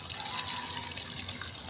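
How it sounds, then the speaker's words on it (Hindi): Water splashing and gushing onto potted plants on a rooftop, a close, continuous pour that keeps a steady level for the whole stretch. "अब मैं डाल रही हूँ पेड़ में पानी"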